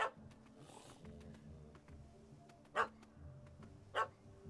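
In The Witcher 3 video game, a small puppy barks up at a cat that has fled into a tree, giving a few short, sharp yaps, faint and intermittent against a low ambient background.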